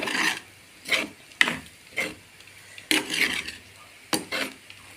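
A spoon scrapes and rasps through a roasted plantain stir-fry as grated coconut is mixed in off the heat, in several uneven stirring strokes with short pauses between them, close up and without speech.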